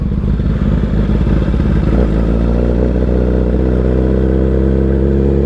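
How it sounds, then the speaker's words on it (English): A motorcycle rolling in gear with the clutch let out and no throttle, its engine chugging at a steady low idle close by, with a faint mechanical clatter and a slight drop in pitch about two seconds in. "I didn't give it any throttle, bike's going by itself"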